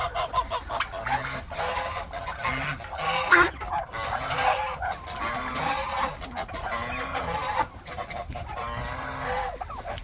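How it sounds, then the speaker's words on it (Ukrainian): Geese honk repeatedly in a noisy farmyard, several birds calling over one another at close range with clucking poultry mixed in. "Вже потихеньку освоїлись гуси."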